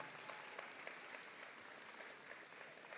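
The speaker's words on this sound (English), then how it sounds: "I want you to give them a round of applause" Steady applause from a large audience, dense clapping throughout at moderate volume with no talking on top.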